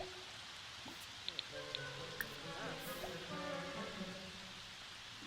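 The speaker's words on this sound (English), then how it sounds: "Boy, it is really raining." Rain falls in The Sims 4, a soft, steady patter with a few sharp drop-like ticks, while a person talks over it for much of the stretch.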